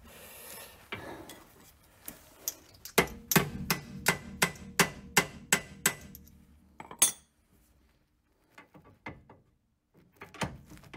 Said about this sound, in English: I'm gonna have to hammer this down this way